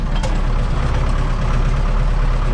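A Zetor Crystal 8011 tractor engine idles steadily nearby, a loud, low chugging drone with a faint rhythmic knock running through it.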